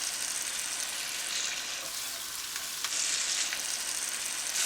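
Beef and pancetta sizzle and fry in a pan while being stirred, a loud, steady hiss of hot fat with occasional scraping and shifting of the meat, close up and without any talking.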